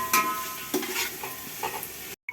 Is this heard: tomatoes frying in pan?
yes